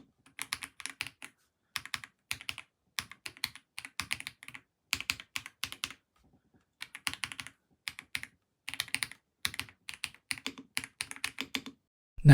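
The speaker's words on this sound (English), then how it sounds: "this is how the keyboard sounds with the stock switches" A GravaStar Mercury K1 gaming keyboard with stock Kailh linear switches is typed on in close, crisp bursts of clacking keystrokes separated by short pauses, with no other sound.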